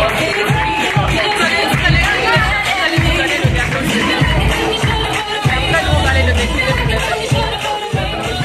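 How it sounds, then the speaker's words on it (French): Wedding guests applaud and cheer the couple, loud, dense clapping with whoops and chatter filling the room continuously. "Je vous invite encore une fois à applaudir pour eux"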